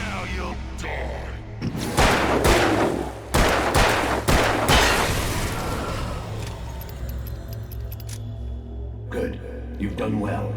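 Rapid gunshots in the horror video game Alan Wake, a loud close burst of several cracks in quick succession with a long reverberant fade, accompanied by a speaking voice.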